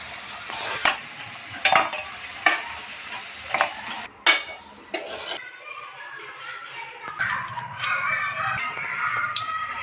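Oil sizzles steadily in a pan as potatoes fry, while a utensil scrapes and stirs in sharp, repeated strokes, then the frying hiss continues on its own.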